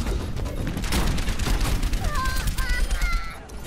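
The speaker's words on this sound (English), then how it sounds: "Rocket barrage incoming." Rocket barrage in the Overwatch shooter: rapid volleys of loud explosions and gunfire-like bursts rolling over each other, dense and continuous for a few seconds.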